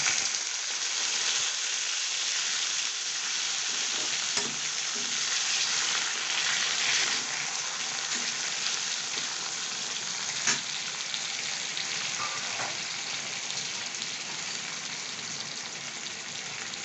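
Mustard seeds and cumin frying in hot oil give a steady, close crackling sizzle that holds evenly throughout with no voices.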